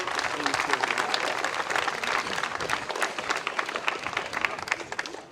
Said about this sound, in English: So big applause for Neil there, please.